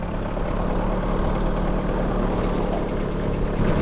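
A Kubota GT5 compact tractor engine runs in a potato field with a hiller attached, giving a steady, loud, close low-pitched drone that holds an even level throughout, with no talking.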